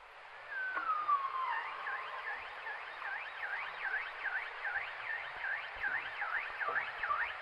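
An Arctic bowhead whale calls underwater in a long descending sweep, then a rapid repeating up-and-down warble like a car alarm, steady and clear against faint water noise.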